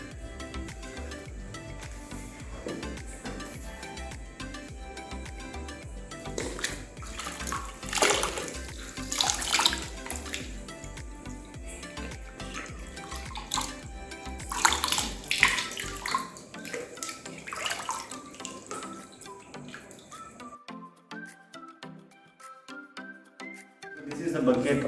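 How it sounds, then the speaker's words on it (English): Human hair is dipped and swished in a container of plain water, giving irregular splashing and sloshing with a few louder bursts, fairly close and moderate in level, before fading to near silence at the end. "Now I just dip this into the fresh plain water."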